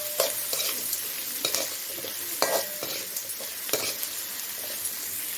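Spice mixture for podi idli sautéed and stirred in a pan, with a steady close sizzle broken by repeated spatula scrapes and clinks at an uneven rhythm, with no talking.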